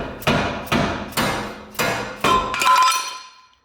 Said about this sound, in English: And then your rotor, just give it a little whack.